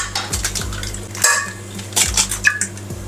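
Two eggs go into a mixing bowl for banana cake batter, with a bright clink of glass and utensils against the bowl and a few scattered taps and knocks over a faint background hum.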